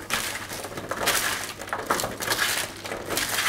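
Sweet potato pieces being tossed with oil, salt and pepper in a baking dish, giving a steady clattery scraping and knocking that carries on close and fairly loud for a few seconds with no talking.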